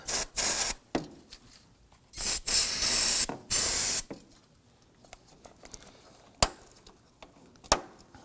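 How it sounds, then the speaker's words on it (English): Several loud bursts from an aerosol solvent spray can, each hissing for about a second or more, separated by quiet gaps and a few sharp clicks. "You take a little bit of spray solvent, and we're going to try and flush this out a little bit."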